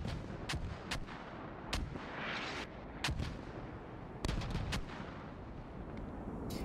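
Mortar rounds exploding in the military shooter game Squad, a string of sharp booming blasts and cracks at irregular intervals, some near and some distant, over a steady rumbling battlefield background with no talk.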